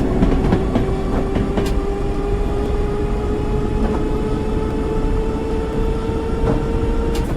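An East London Line underground train from 1990 runs on track toward the tunnel section to Wapping, a loud steady rumble with a rising motor whine and occasional rail clicks, heard from the cab with no talking.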